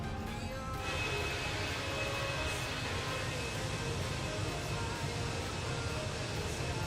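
CFM jet engines on a Fenix A320 in Microsoft Flight Simulator 2020 at Nashville, roaring as a loud, steady broadband rush with a faint whine that holds throughout.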